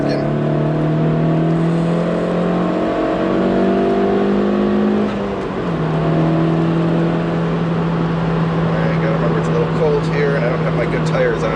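Car with a limited-slip differential pulling hard, the engine note climbing in steady rising sweeps, dropping at a shift, then holding a strong drone, heard from inside with someone talking over it.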